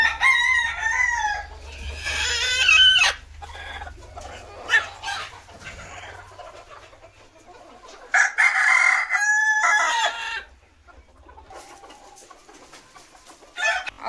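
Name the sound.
chickens clucking and crowing on a free-range poultry farm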